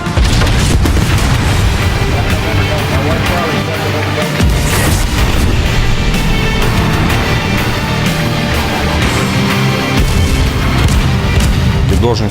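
Guns aboard the battleship USS New Jersey fire in battle, a loud, dense, continuous roar of booming blasts and rumble with no pauses.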